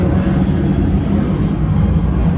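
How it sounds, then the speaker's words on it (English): Airplanes passing overhead: a loud, steady, broad roar of aircraft noise that fills the whole clip with no talk. "Wow, can you imagine all these planes going by?"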